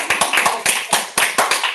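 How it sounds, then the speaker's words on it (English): A round of applause from the crowd at a college charity danceathon for Children in Need, with steady, fairly loud clapping in bursts of quick hand claps. "Round of applause."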